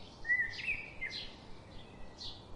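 A bird in an animated folk story, a koel, gives a few short whistled and chirping calls, thin and moderately faint, over a steady quiet background hiss, with no voices.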